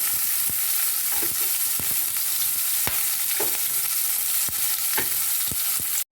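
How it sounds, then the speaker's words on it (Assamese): Onions and two bay leaves fry in hot oil in a pan with green chillies, a steady close sizzle broken by several sharp scraping stirs of a spoon against the pan, with no talking. "আমাৰ পিঁয়াজখিনি ভজা হৈ গৈছে"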